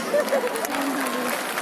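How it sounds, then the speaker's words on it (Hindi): Applause from an audience at the Femina Miss India pageant, a dense wash of clapping with crowd noise and some voices mixed in, steady throughout. "जोरदार तालियां फॉर टेरेंस लिव विश"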